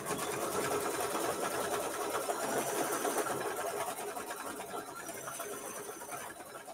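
Single-needle embroidery sewing machine stitching the fabric placement line for a quilt block, a fast steady rattling chatter of the needle, close and continuous, fading slightly toward the end.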